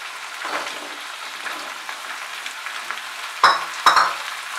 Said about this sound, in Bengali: আলু দিয়ে 2-3 মিনিট ফ্রাই করার পর এর মধ্যে আমি বেগুন আর কেটে রাখা শিমটা দিয়ে দিলাম